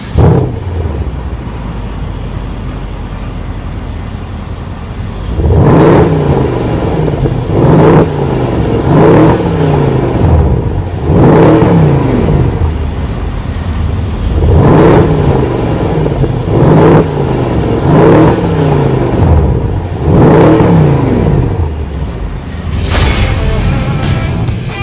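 A 2014 Mercedes-Benz CLS63 AMG S-Model 4Matic coupe engine is revved repeatedly through its exhaust, about eight loud, deep blips spaced a couple of seconds apart over a steady idle rumble.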